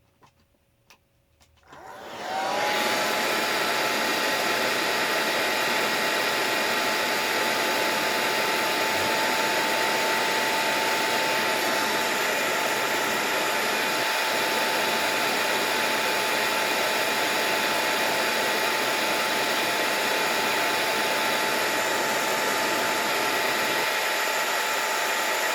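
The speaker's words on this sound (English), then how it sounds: "Let me just put my blow dryer on that one little spot real quick." A handheld blow dryer runs close and loud, drying a small spot of paint on a mixed-media notebook cover, a steady whirring blast that starts after a short quiet moment and holds evenly to the end.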